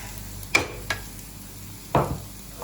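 Onion, onion leaves and green chilies stirred in a hot pan, with a soft sizzle underneath and three brief scraping strokes of the spoon against the pan.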